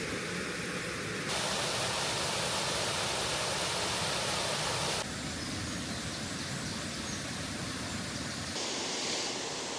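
A waterfall on the River Mells in a village produces a constant broad rushing roar that stays steady and full throughout, with no voices.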